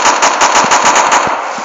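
RPK machine gun firing full-auto in a Minecraft PE guns mod, a rapid burst of about nine evenly spaced loud shots before trailing off.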